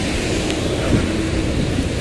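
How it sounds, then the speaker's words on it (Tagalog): Steady rain pours near a footbridge in Baclaran, a dense close hiss with a low rumble of thunder underneath, no talk. "So, umuulan."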